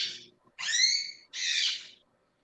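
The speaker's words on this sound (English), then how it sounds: "Oh, a parrot? A conure." A pet conure parrot indoors gives three loud, harsh, screeching calls, one short and two longer, with quiet gaps between them.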